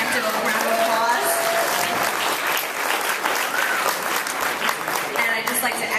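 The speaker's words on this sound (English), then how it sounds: "Let's give them a preemptive round of applause." Audience applause fills a Sonoma County ACLU annual awards dinner, a steady, dense wash of many hands clapping that holds at full strength throughout, with no voices standing out.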